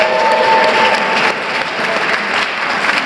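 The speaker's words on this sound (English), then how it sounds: "Let's give them a strong round of applause." A crowd at a Dominican heritage celebration in a Bronx hall gives the evening's hosts a sustained round of applause, a thick, even wash of many clapping hands filling the room, with faint murmurs beneath.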